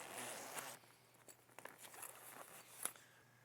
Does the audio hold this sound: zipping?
yes